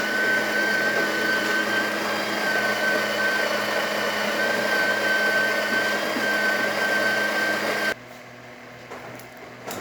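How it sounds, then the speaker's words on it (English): Breville espresso machine grinder grinding test coffee beans at setting 12: a steady, loud whirring drone with a constant tone that runs for about eight seconds, then stops abruptly, leaving faint room noise. "Now we are grinding at the 12th setting of the grinder"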